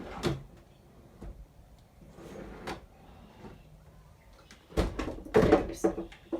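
A wooden workshop drawer is pulled open and shut in a few sharp knocks and rattles, close by and separated by quiet gaps.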